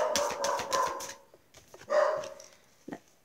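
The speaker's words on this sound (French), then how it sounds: "Léo, t'aboies pour rien" A pet dog barking at home, a quick run of several sharp barks followed by a pause and then a few more yips and barks, fairly close and alone without talk.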